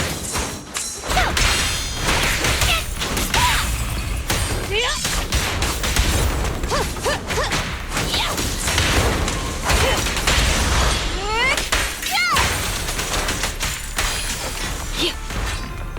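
Gunfire and thudding impacts from combat in the video game Zenless Zone Zero, a dense, loud volley of shots and whooshes that runs nearly continuously under a voice talking.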